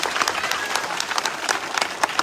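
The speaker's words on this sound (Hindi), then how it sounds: "इस बहन के लिए तालियां बजाइए प्राची वाल्मीकि के लिए" An audience at a school opening event claps for a teacher receiving a trophy, loud continuous applause with sharp individual claps standing out and crowd voices mixed in.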